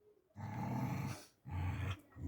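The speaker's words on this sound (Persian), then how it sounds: "چرا گرگر میکنی؟" A dog growls in two long, low, rumbling stretches close by, pausing briefly between them before a third growl starts, with no talk over it.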